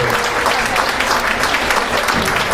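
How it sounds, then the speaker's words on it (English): Wedding guests applaud the wedding party, bride and flower girls, a brief burst of dense, close clapping from a crowd. "have a round of applause for the beautiful wedding party and the bride and the flower girls"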